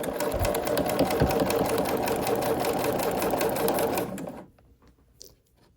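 A sewing machine runs steadily for about four seconds, stitching quilt block pieces for a nine-patch, checkerboard and intersection block, then stops, leaving near silence with a small faint knock at the end.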